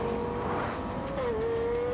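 A 4.8-litre Lexus LFA engine revs hard on a test bench, its high, sustained wail holding pitch, dipping slightly, then climbing again, loud and close with no voices.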